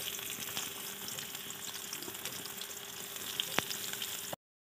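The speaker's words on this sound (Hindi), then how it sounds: "घी गर्म हो गया है," Onions frying in hot ghee on a tawa, giving a steady, close crackling sizzle with a few small pops, heard alone until it cuts off abruptly.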